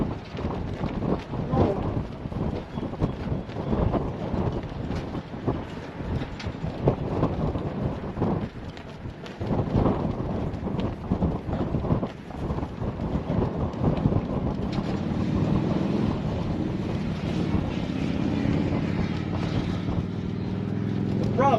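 Strong wind buffeting a microphone outdoors during a long-distance walk, a continuous loud rumbling roar with gusty surges throughout and no clear speech.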